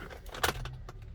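A key slides into the ignition of a 2011 Skoda Superb 1.8 TSI, giving a soft metallic click and light jingle that sit close but quiet over low cabin background noise.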